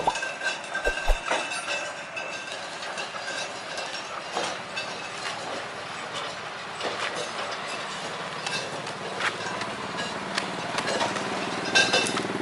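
A sugar cane railway locomotive hauls wagons on a cane line at PG Semboro toward Jombang, giving a steady distant rumble with faint clickety-clack from the wheels and occasional light squeals, heard alone at low level.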